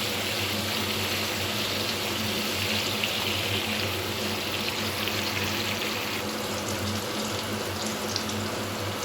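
Bitter gourd (kakrol) pieces with a little turmeric frying in a pan, giving a steady, loud, even hiss that runs unbroken throughout with no talking.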